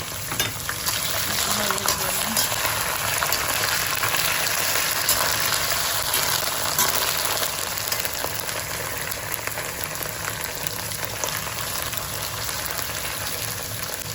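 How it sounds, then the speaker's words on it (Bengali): Onions sizzle steadily in hot oil with ginger and garlic added, a continuous crackling hiss close by with faint clinks and stirring, no voices. "পেঁয়াজটা খুব সুন্দর করে ভাজা হয়ে গেছে"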